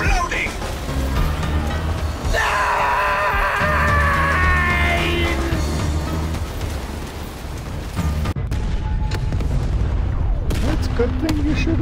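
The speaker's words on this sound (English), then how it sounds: "The tank's exploding!" A tank blows up in a video game with loud booming blasts and gunfire-like bursts over a dense, continuous game soundtrack, with a fresh burst near the end.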